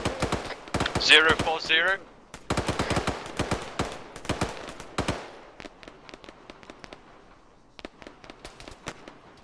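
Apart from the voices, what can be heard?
gunfire in a military shooter video game (CSAT)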